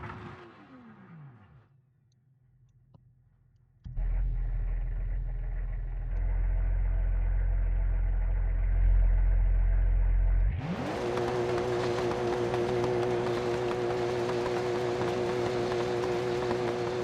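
A Porsche sports car drives off-road in BeamNG, its engine idling low before revving up into a sustained, steady drone, then shifting to a brighter, higher-pitched whine at speed.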